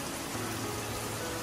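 Steady rain falls outside a home in India, making a constant, even hiss of moderate, fairly distant loudness with no voices heard.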